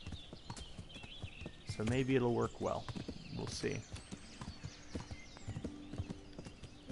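Horse hooves clip-clop at a quick riding pace in the medieval game Kingdom Come: Deliverance, a rhythmic run of thuds close by while someone talks over them.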